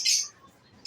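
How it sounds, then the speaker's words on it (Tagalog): Pet birds kept in a home aviary give two short, bright chirps, one at the start and one at the end, with near-silence between them. "Ang gaganda ng ibon nila dito."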